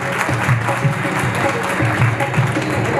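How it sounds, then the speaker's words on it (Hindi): Audience applause welcoming a revered guest at an Arya Samaj 150th foundation day celebration in Agra, a steady dense clatter of many hands filling the hall for the full three seconds, with a faint murmur of voices underneath. "एक बार तालियों से स्वागत जरूर करिएगा"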